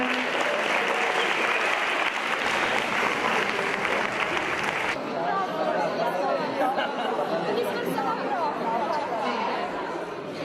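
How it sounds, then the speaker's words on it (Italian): A school event audience in Italy applauds at a finale, loud dense clapping that drops after about five seconds into lighter clapping mixed with crowd chatter. "Un applauso finale."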